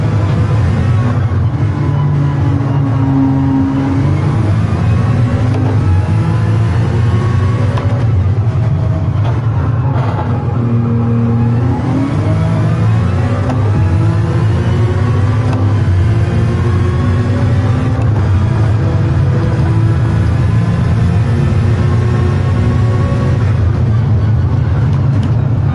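A race car engine drones through a full lap, its pitch rising and falling with gear changes and corners, holding a loud, steady presence from start to end.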